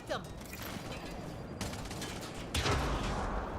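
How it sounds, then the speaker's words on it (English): Gunfire in the video game Mass Effect Andromeda rattles in dense bursts amid busy combat noise, with a louder burst near the end. "Sarah, shoot them!"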